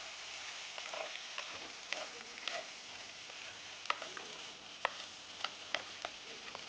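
Cluster beans and green chillies sautéing in a pan: quiet, steady sizzle with scattered sharp ticks and clacks of stirring, close and without talk.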